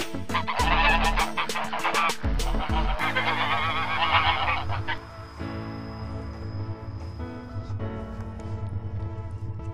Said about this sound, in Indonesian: Ini angsa, teman-teman.